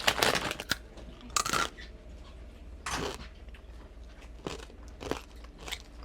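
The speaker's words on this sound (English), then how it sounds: "The crunch, the juice." Crunchy bites and chewing of a Nerds Rope candy snack, about six sharp crunches spaced irregularly over several seconds, close and fairly quiet, with no talking.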